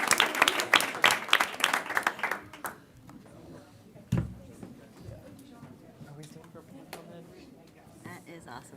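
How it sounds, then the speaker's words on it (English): An audience at a school board meeting bursts into loud, dense applause for about three seconds, then the clapping fades to scattered claps and a low room murmur with some talking. "Let's give them one more round of applause."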